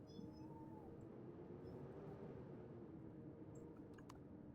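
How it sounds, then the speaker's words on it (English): A kitten meows faintly while climbing a person's leg, a few soft rising meows over a steady background hum from a computer game, with small ticks and rustles near the end. "Oh, I got a kitty climbing my leg."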